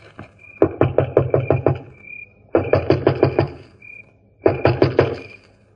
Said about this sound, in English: Stand where you are, and I'll go knock on the door.